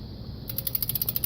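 Wrench loosening an RV wheel lug nut: a short run of quick, evenly spaced metallic ratchet clicks, close and crisp, after a quiet moment.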